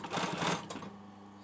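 A sewing machine runs in a short quick burst while topstitching a patch pocket onto a hoodie, a close rapid chatter that slows and stops partway through.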